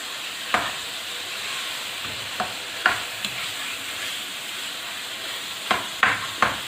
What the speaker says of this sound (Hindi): अब इस चिकन को इसके साथ प्याज और अदरक लहसुन के पेस्ट के साथ हम थोड़ी देर फ्राई करेंगे।